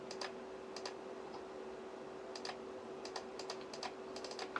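Sparse, quiet clicks of computer keyboard keys, including the Alt key, pressed in small clusters over a steady background hum, close and soft.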